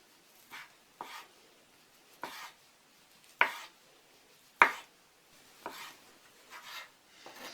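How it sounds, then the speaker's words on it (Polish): A knife slices white sausage into rounds on a cutting board: sparse, irregular sharp taps and cuts, a couple of them louder, in a quiet room. "A białą kiełbasę pokroję w plasterki."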